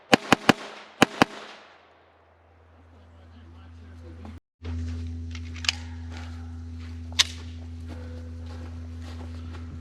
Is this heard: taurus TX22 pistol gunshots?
yes